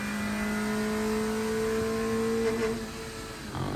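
A car with its stock air box runs on a dyno, its engine holding a steady loud drone with a sustained tone that shifts pitch near the end, alone with no talk.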